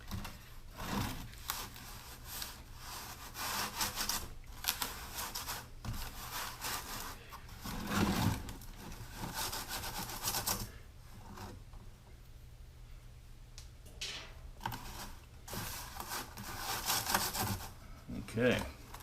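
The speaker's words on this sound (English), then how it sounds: "Putting enough sand through the riddle for it to be a goodly amount of facing sand." Foundry sand is rubbed and shaken through a riddle to make facing sand, giving a steady gritty scraping hiss in repeated strokes with brief pauses, close by and fairly quiet, with no talk.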